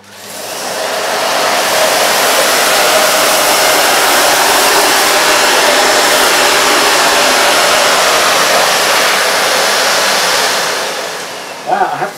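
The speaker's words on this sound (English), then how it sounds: "So starting off on maximum, we'll just pass the nozzle forward and back through the middle of all this dirt." A Miele Complete C1 Powerline Cat & Dog vacuum cleaner runs on its maximum setting as the nozzle passes back and forth through dirt, giving a loud, steady roaring whoosh that holds for about twelve seconds before a brief rattle at the end.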